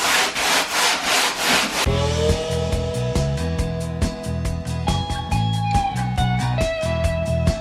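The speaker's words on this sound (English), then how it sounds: "I'm just sanding this down now because going to need to have that done so that we can plaster it" Wood on a fireplace surround is sanded by hand before plastering, heard as rhythmic close scraping strokes, first a harsh rasp and then a tonal squeaky rubbing, loud and alone.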